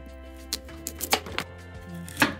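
A knife slices the ends off a celeriac in a few sharp chopping cuts against a board, close and crisp, over a steady low hum.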